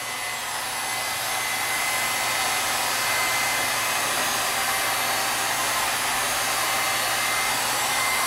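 A Harbor Freight heat gun runs continuously, a loud, even blowing roar with a steady airy hiss that holds without change the whole time, nothing else heard.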